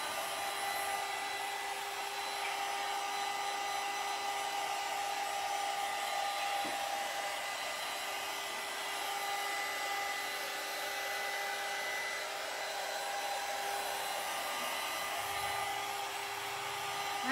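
A hair dryer runs steadily and loudly at close range, drying decoupage on a vanity being made over with molds, its even whine holding without pause throughout.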